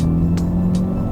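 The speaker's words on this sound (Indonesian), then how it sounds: "langsung kedengeran suara knalpotnya ditambah artificial sound yang ada di dalam mobil dari speaker Burmester ini gitu." Steady exhaust drone from a Mercedes-AMG A 35, blended with artificial engine sound played through the cabin's Burmester speakers, holding a low, even hum heard from inside the car with faint ticks.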